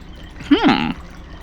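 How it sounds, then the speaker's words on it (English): A brief splash of water pouring into a giant container in the video game RealMyst, rising then falling over about half a second, alone against a quiet background. "Because we hear water going in."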